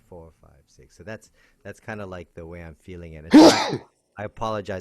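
A single sharp sneeze bursts out between stretches of someone talking and counting aloud, close and loud against the quieter speech.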